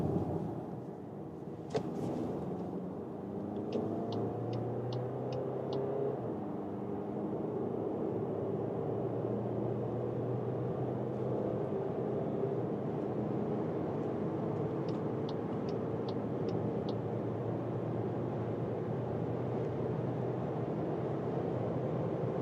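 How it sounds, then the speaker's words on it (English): A 2-liter TDI diesel Volkswagen Tiguan R-Line with DSG dual-clutch automatic cruises on the Autobahn at about 160 km/h, giving a steady low cabin drone of engine, tire and wind noise with a few faint clicks. "So this is here the 2-liter TDI for the all-new Volkswagen Tiguan."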